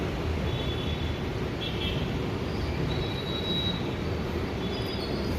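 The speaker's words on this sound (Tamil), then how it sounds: "சென்னை பீச் போகிற ட்ரெயினால் ஃபஸ்ட் பிளாட்ஃபார்ம்லேயே என்ட்ரி கொடுத்தாச்சு." A Chennai Beach-bound suburban train pulls into the first platform, its steady rumble of wheels and cars loud and continuous with faint metallic squeals riding over it.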